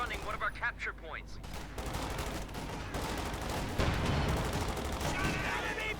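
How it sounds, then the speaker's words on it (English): Machine gun fire from two Panther tanks rattles through a Company of Heroes 2 battle, dense bursts and shots layered over a continuous din of combat noise and explosions, with a voice talking over parts of it. "Lieutenant getting shredded there by machine gun fire from the 2 Panthers."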